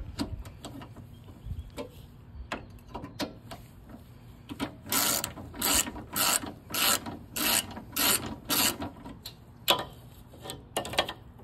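A wrench ratchets in bursts while loosening a bolt on the cooling fan of a 2012 Ford Escort, with rhythmic clicking and scraping, close and fairly quiet.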